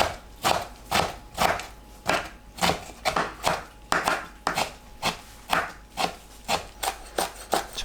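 Aged, squeezed-dry kimchi chopped with a knife on a board, a steady run of about twenty crisp, close chops with wet crunching, evenly paced and alone.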